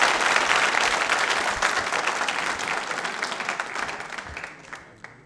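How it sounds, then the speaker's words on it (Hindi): Sustained crowd applause at a nursing college quiz show, dense and loud at first, then thinning and fading out over the last second. "तालियां रुकने की जरूरत नहीं है।"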